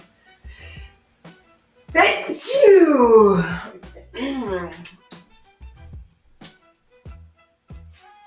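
A single loud sneeze bursts out near the mic, followed by a short exhale, with quieter clicks and ticking around it.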